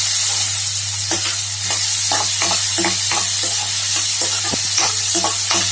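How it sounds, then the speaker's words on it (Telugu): Onions frying in two spoons of hot oil in a kadai give a steady, loud sizzling hiss. Repeated scraping and clinking of stirring runs through it, with no voices. "ఆయిల్ వేడైన తర్వాత ఆనియన్స్ వేసుకోవాలి"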